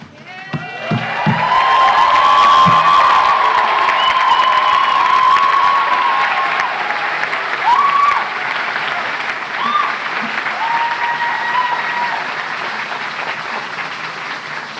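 Sustained applause and cheering from the crowd at the UC San Diego School of Medicine MD commencement ceremony, swelling quickly to a loud roar, with whoops and shouts rising above the clapping before it slowly tapers.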